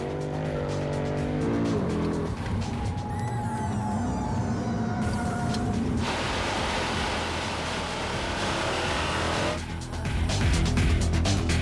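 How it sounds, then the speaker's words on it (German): A Mercedes C63 AMG with 36 cm front disc brakes brakes hard through a race-track chicane into a hairpin. The engine roars and shifts pitch, tires squeal, and a louder surge of engine noise rises near the end. "Scheibenbremsen im 36 cm Format vorne ankern den Mercedes rasant durch die Schikane direkt in die 180-Grad-Kurve"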